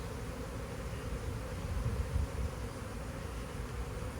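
A honey bee swarm buzzes in a dense, steady drone as it clusters around a hive box. The low hum holds close and continuous, and it swells slightly in the middle.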